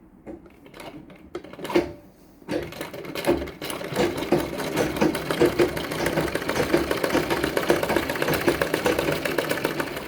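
A sewing machine stitches a folded saree border, opening with a few separate clicks and short bursts before settling into a continuous, steady mechanical whirr up close, with no voices.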